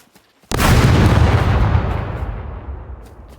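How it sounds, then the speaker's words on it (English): Three grenades explode in a chain reaction in the video game SCUM: one sudden heavy blast, then a long rumbling roar that slowly fades over several seconds. "As you can see, all 3 of them now explode."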